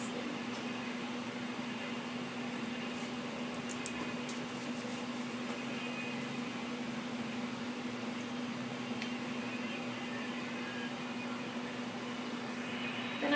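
A CT simulator scanner's tube keeps running after a completed scan, giving a steady mechanical hum with a constant low drone and broadband whir, unbroken for the whole stretch at moderate level.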